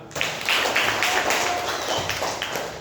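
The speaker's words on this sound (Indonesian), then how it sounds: "Tepuk tangan untuk Najwa." A classroom of students applauds a classmate, a brisk burst of steady clapping filling the room at close range with no talk over it.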